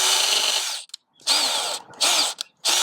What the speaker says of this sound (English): get a drill just to make some starter holes